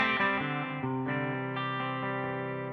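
Electric guitar through an amp's clean channel, several ringing chords and notes with sustained harmonics, close and moderately loud, no voices.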